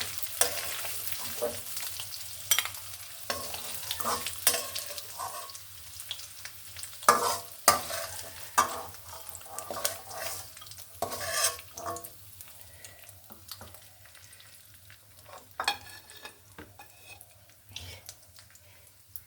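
Fish frying in a pan of hot oil with turmeric, a steady crackling sizzle with scattered sharp pops and stirring clatter, close and moderately loud, with no talk in this stretch.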